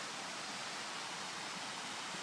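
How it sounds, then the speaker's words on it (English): A waterfall beside a wooded hiking trail pours in a steady, broad rushing hiss that stays even and fairly near throughout, with no voices over it. "if you can hear, there's a waterfall just to my right up here"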